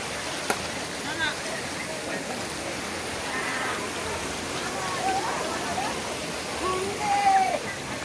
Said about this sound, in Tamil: இதில் பாருங்கள் எப்படி தண்ணி ஓடிக்கொண்டிருக்கேன்னு சொல்லி